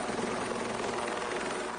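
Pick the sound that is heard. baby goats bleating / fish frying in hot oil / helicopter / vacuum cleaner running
helicopter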